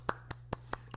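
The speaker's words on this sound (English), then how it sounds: "Don't clap for that." A few sharp hand claps spaced unevenly, five distinct bursts over a steady low hum, fairly near and moderately loud.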